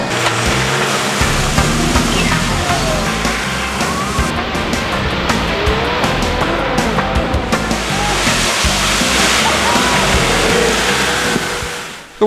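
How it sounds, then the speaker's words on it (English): A Land Cruiser at a cruiserKhana event ploughs through a water crossing, a loud continuous rush of splashing and surging water over a low engine rumble that runs steadily for most of the stretch before cutting off abruptly. "Who can make the biggest splash and who can get the most water on their windscreens"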